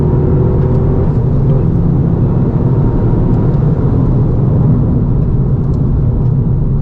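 Loud, steady engine roar from inside a Toyota GR Yaris with its stock exhaust, a continuous low rumble and whir holding at a constant level while accelerating, with no one speaking.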